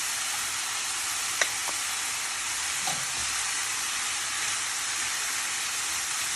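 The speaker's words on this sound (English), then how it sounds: "I'm adding the cabbage." Cabbage tossed into a hot pan of mixed spices for chicken kachori, sizzling in a loud, steady hiss with a few soft clinks and knocks early on.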